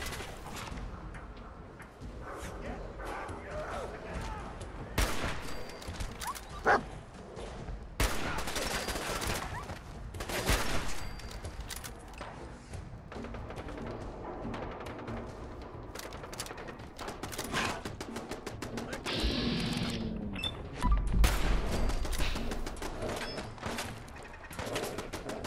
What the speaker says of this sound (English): And there's a turret above us. From the sounds of it.